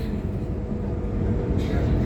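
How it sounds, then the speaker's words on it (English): Sydney Trains suburban train passing on the T5 line near Schofields, a steady low rumble of wheels and carriages throughout, with a brief hiss rising near the end. "Got a train coming over."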